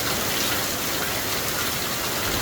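Steady rain of the Thai rainy season, a dense continuous hiss of falling drops with no pauses or voices, close and fairly loud throughout.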